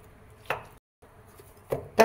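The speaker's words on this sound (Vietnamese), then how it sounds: "Cắt ra xong mình băm cho nhỏ ra" Knife mincing soaked, rehydrated dried shiitake mushrooms for a vegetarian banh gio filling; two sharp close chops about a second apart, a third at the very end, over faint background hiss.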